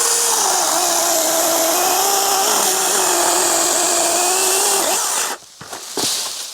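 A DeWalt 20V Max 8-inch battery pruning chainsaw cuts through a 3.5 to 4 inch hardwood limb with a loud, steady whine that dips slightly under load. It cuts out near the end, then a few short bursts of sound follow.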